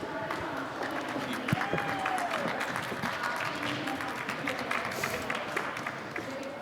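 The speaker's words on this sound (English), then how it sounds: "Round of applause, please." Audience applause at a conference talk on secrets management, a steady wash of clapping that holds at an even level for several seconds, with no voices over it.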